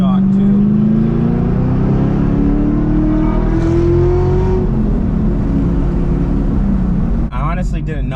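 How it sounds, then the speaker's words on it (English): A tuned Camaro ZL1 accelerates hard, its engine roar rising alongside a climbing LT4 supercharger whine, loud and close from inside the car, with a brief dip near the end. "Honestly didn't know I could get this much whine from the LT4 supercharger."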